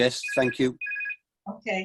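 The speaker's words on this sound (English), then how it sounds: "And that's my phone, I do apologise." Telephone ringing during a Southwold Town Council meeting, a single bright electronic ring tone heard clearly between short bursts of nearby speech.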